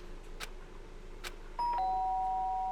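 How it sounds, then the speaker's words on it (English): A doorbell in the video game Danganronpa rings a clean two-tone ding-dong, sharp and close, after a few soft background knocks. "The sharp sound of the doorbell pierced my sleepy haze and pulled me back to the real world."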